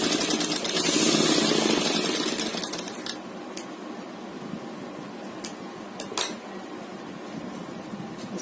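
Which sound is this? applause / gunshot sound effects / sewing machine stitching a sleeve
sewing machine stitching a sleeve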